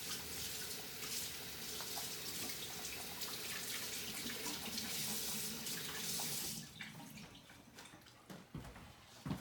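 Kitchen tap water runs steadily into a sink while something is rinsed off during vegan lasagna preparation, a continuous close splashing rush that cuts off near the end, leaving a few drips and clinks.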